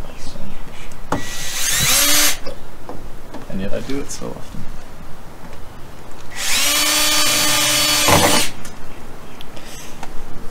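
A power drill drives tek screws into the doors of an AE71 car with a 4AG engine, two long whirring bursts near and loud, with someone talking between them.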